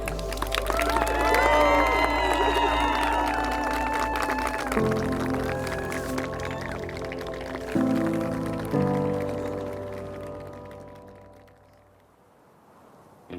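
Wedding guests clap and cheer for the newly introduced couple, a broad, loud wash of applause from a crowd mixed with music that thins out toward the end.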